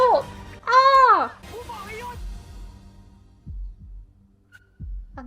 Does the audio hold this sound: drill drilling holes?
no